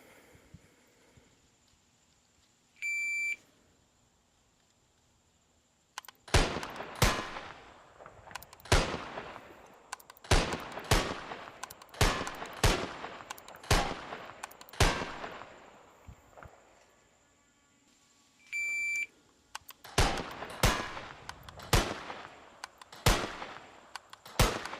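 Sharp virtual gunshots crack in the GAIM VR shooting simulator, aimed at eight stationary steel targets. A timer beep starts each run, followed by a steady string of loud, evenly spaced reports. A second beep starts another string of rapid shots.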